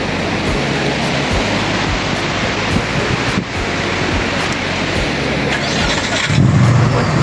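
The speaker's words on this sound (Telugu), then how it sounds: "ఇక్కడ ఓషన్ బీచ్కి వచ్చాము. ఇది వెస్ట్ కోస్ట్ ఆఫ్ టాస్మానియా." Ocean waves at Ocean Beach on the west coast of Tasmania roar as loud, continuous surf, with steady broadband wash and rolling breakers and no voices.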